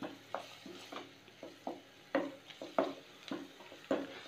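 Onions sautéing with salt in a pan for a Tamil pepper chicken, with soft irregular scrapes and stirring knocks over a faint low sizzle, fairly quiet and close, no voices.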